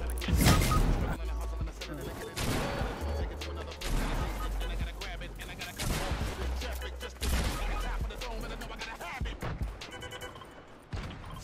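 Suppressed SMG fire in a Fortnite-style shooter bursts in repeated rapid volleys with heavy low thumps, mixed with other gunfire and crashes, while a player talks excitedly over the action.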